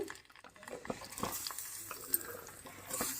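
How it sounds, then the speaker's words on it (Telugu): Ivy gourd pieces and green chillies dropped into hot oil in a pan, giving a soft crackling sizzle with scattered pops and light stirring clatter, fairly quiet and close. "ఇప్పుడు స్టవ్ వెలిగి ఆయిల్లో దొండకాయలు పచ్చిమిర్చి వేస్తున్నానండి వేయించడానికి."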